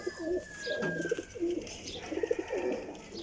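Teddy golden flying pigeons coo repeatedly, soft throaty burbling calls close by, overlapping in a continuous low murmur.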